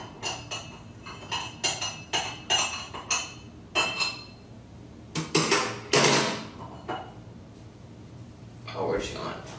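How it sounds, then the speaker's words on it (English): A spoon scraping and stirring the bottom of a pot makes a series of sharp metallic clinks and clatters in an uneven rhythm, close and fairly loud, with brief pauses between bursts. "Spoon, stir up the bottom."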